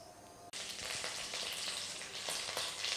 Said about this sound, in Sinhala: ඉස්සලා මේක පොඩ්ඩක් රත් වෙන්න තියලා oil ටික අපි එකතු කරගන්න.